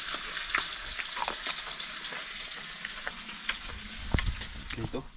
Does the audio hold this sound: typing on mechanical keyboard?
no